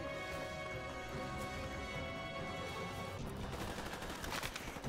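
Gunfire in the shooter Call of Duty: Modern Warfare Remastered crackles as a dense, sustained rattle of shots over a constant humming background, quiet overall and growing busier toward the end.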